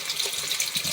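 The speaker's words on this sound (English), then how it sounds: "Add a little bit of water to my hands here, wash them off." Tap water runs steadily over hands being rinsed at a sink, a brief close hiss of flowing water with no talking.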